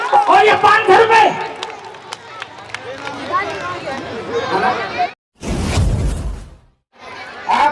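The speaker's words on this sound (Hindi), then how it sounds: "भाई मान सिंह मिशन कमेटी के लिए जोरदार ताली हो जाए, जोरदार ताली हो जाए" An audience at a large Constitution Day event claps, a burst of applause mixed with crowd chatter that starts and stops in short rounds.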